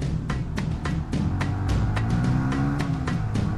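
A car pulls away from a green light on Jalan Soekarno-Hatta in Ponorogo at night, its engine note rising steadily under a constant loud road and traffic roar, with sharp clicks and rattles scattered through.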